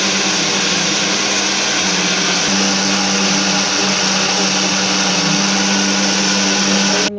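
A mixer grinder blends bananas in milk, a loud, steady motor whir that holds constant for several seconds and then cuts off abruptly at the end.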